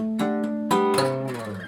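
Acoustic guitar closing a live acoustic arrangement of a song with a rhythmic figure and ringing harmonics: a few strummed, percussive attacks followed by sustained bell-like tones, played alone and close.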